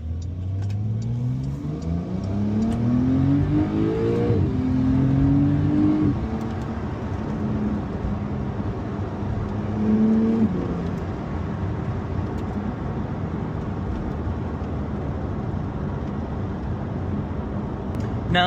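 A 2024 Porsche 911 Carrera 4S, all-wheel drive, revs up through two strong accelerating pulls, its engine note rising in pitch each time, then settles into a steady cruising drone with road noise.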